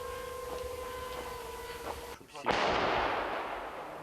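Two sharp artillery booms land a few seconds apart near Pokrovsk, the second louder and followed by a broad rushing roar that slowly fades, over a steady electronic whine.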